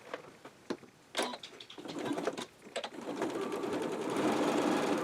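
A sewing machine top-stitches the folded lining edges of a fabric mask, starting with short bursts of quick needle rattling, then running into a steadier, faster buzz, close and alone.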